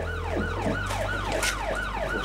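An ambulance siren wails in repeated rising-and-falling sweeps over a steady low engine hum, fairly close and continuous.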